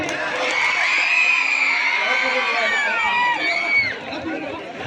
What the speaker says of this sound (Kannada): ನಿಮ್ಮ ಚಪ್ಪಾಳೆ ಮತ್ತು ನಿಮ್ಮ ಕೂಗಿನಲ್ಲಿ ಯಾವುದೋ ಒಂದು ಶಕ್ತಿ ಇದೆ ನೋಡ್ರಿ